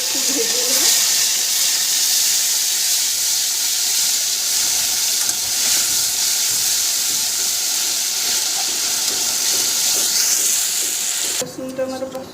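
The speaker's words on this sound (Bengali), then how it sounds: "আদা রসুনের পেস্ট দিয়ে দিই। এটা ভালো করে একটু ভেজে নেব" Ginger garlic paste frying in a pan for achari mushroom, giving a steady loud sizzling hiss throughout that cuts off abruptly near the end.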